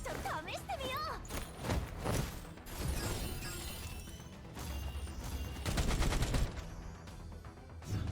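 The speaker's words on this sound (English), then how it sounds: "The turret is doing this work." Turret gunfire in a video game, rapid bursts with shattering impacts layered over a busy mix, while players talk throughout.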